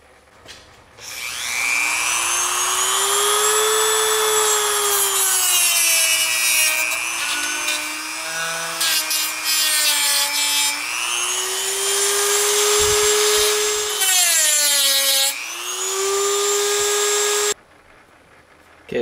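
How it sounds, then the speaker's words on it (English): An angle grinder whines steadily against a metal high flow bracket, a loud continuous grinding with rising and falling pitch as pressure shifts, stopping abruptly near the end. "so I'm just gonna grind this down"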